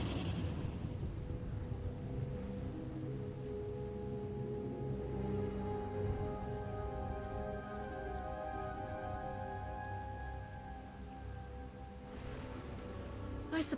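Steady, heavy rain pours in a stormy scene from the video game Star Wars: The Old Republic, Knights of the Eternal Throne, with a constant hiss of drops on surfaces and low tones beneath.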